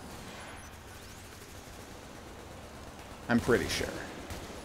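Turret gunfire in the Girls und Panzer video game: a short, loud burst of shots near the end, following a stretch of quiet background, with a person talking over it.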